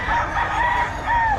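Roosters at a Friday chicken market in Bocaue, Bulacan crow loudly and close by, several drawn-out calls overlapping over a steady market murmur.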